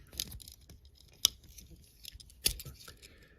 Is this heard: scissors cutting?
yes